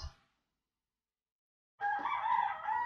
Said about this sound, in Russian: Вот первые петухи.